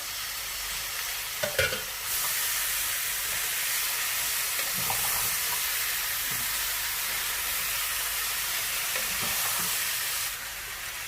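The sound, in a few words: chopped tomatoes frying in a pan with aloo baingan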